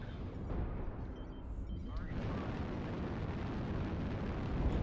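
In MechWarrior Online, LRM missile fire hits mechs with a dense, continuous rumble of explosions and low booms, steady and fairly loud throughout.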